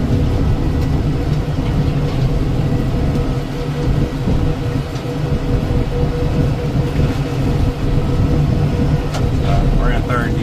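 A Kubota M7060 tractor runs in third gear pulling a Landpride RCF3010 rotary cutter through thick brush, a loud continuous engine and mower roar with crashing vegetation, while someone talks over it.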